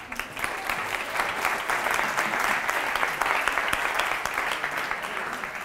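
Applause from an audience at a talk, a sustained, even wash of many hands clapping at steady volume throughout.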